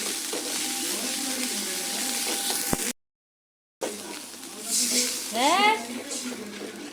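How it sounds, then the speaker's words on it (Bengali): Paste of dried chili, onion and garlic hitting hot oil in a pan for a fish curry, giving a steady close sizzle that breaks off briefly, then resumes with some stirring noise. "গরম হয়ে গেছে তেল, এখন দিয়ে দিলাম মরিচ, পেঁয়াজ, রসুন।"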